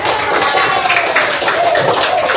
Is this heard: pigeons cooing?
no